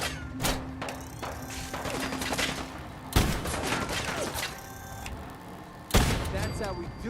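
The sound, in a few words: gunfire in the video game Fallout 4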